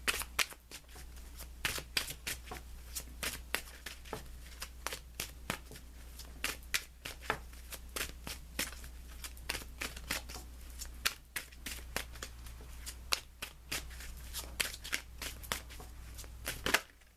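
A tarot card deck is shuffled by hand close up, with rapid crisp riffling and snapping of cards in repeated bursts over a low steady hum.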